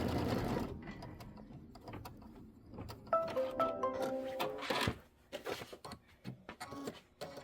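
Sewing machine stitching a Kimberbell March mini quilt: close mechanical whirring bursts with short pauses, turning choppier and more stop-start in the later part.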